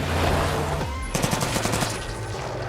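Gunfire from an action film scene: after a low rumbling buildup, a rapid burst of automatic shots cracks out in a tight rhythmic string, loud and close over a dense background.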